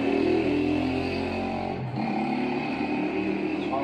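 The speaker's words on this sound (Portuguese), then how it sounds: "Só uma motinha." A small motorcycle passes nearby outside, its engine drone swelling and then easing off over a few seconds behind a quiet room.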